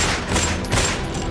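Rapid gunfire in a shootout at a petrol pump in Gokulpuri, Delhi, more than 16 rounds fired, heard as loud, dense, continuous cracking bursts with no talk over them.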